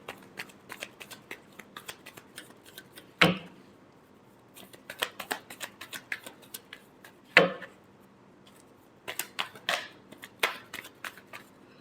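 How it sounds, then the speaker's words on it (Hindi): Tarot cards are shuffled by hand in quick riffling bursts separated by short pauses, with two sharper snapping riffles standing out, close and fairly quiet. "last shuffle"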